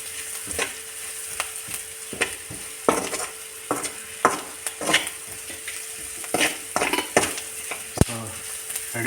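Onions cook in a pan with a soft background sizzle, broken by repeated scraping and clinking strokes as a spatula stirs them, a few short knocks at irregular intervals.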